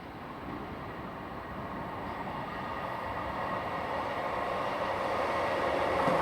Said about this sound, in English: coming in now is a Class 158 unit